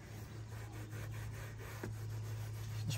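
An abrasive Lithium cleaning cube scrubs a surface under medium pressure, producing faint, continuous rubbing strokes in a quick back-and-forth rhythm with no voices.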